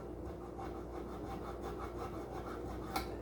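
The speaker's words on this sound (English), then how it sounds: "I'm going to use that same file to do the fourth string because they're the same gauge, and I'm going to do the same thing, forward and backward, nice and slow" A file works the fourth-string slot of a ukulele nut in slow, even back-and-forth strokes, giving a soft, close, rhythmic rasping.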